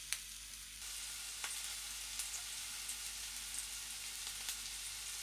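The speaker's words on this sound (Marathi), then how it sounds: "कढीपत्ता इथे छान तेलामध्ये तळला गेला पाहिजे." Curry leaves frying in hot oil with golden garlic, a steady soft sizzle with a few sharp crackles and pops scattered throughout, close and alone with no voices.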